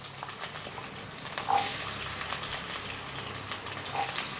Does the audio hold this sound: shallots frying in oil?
yes